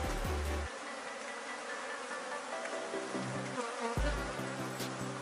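Honeybees from an opened beehive buzz in a dense, continuous drone, with a deeper hum rising near the start and again near the end as bees pass close.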